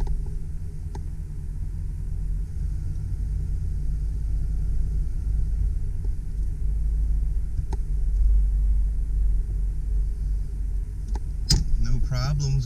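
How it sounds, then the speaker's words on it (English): A 1992 Ford E-150 Centaurus XL high-top conversion van drives on a test drive, its steady low engine and road rumble filling the cabin throughout, with a few brief clicks and a clunk near the end. "I think we're ready to go on our test drive."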